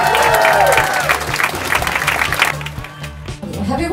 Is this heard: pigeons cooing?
no